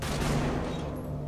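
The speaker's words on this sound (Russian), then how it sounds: "И на каждого по два выстрела." Dense, loud gunfire from Metal Gear Solid 5, a continuous rattling volley of shots close up with no talking.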